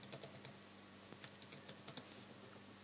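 Someone types quickly on a computer keyboard, a quiet run of close, uneven key clicks alone with no speech.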